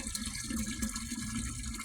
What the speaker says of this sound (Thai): อ้าวจะเอาน้ำลงอ่างอ่ะ